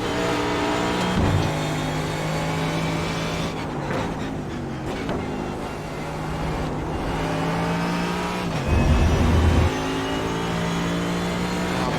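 A race car at Road America drives past with a sustained, loud engine drone, its pitch shifting through gear changes and easing off briefly before revving up again, with no talk over it.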